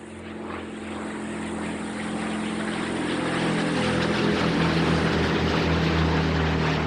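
Airplane engine droning steadily, a deep propeller-like hum that swells gradually louder over several seconds, with no voices present.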